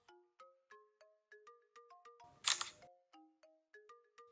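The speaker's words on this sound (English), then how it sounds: "let me take a selfie and demonstrate how you can trigger the shutter." A Samsung Galaxy S6 front camera fires its shutter for a selfie: one short, bright noisy click, set among a repeating series of soft electronic chime notes that play before and after it.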